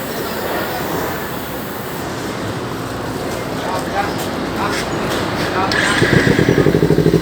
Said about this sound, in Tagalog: pakinggan natin yung sounds ng M4 sa dual cylinder na motor